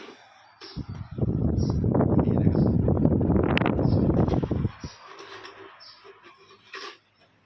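An electric fan running at second and third speed after its white wire was repaired, a loud close whooshing rush of air that starts abruptly, holds steady for several seconds, then cuts off, leaving faint background noise.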